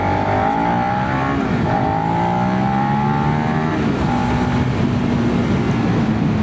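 A Suzuki SV650 motorcycle engine accelerates and pulls up to speed, its loud steady drone climbing in pitch through the gears across the whole stretch, with no talking.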